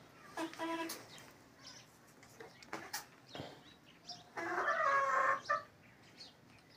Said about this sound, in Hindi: और इधर मुर्गी हैं, इन्हें बाजरा मैंने डाला था।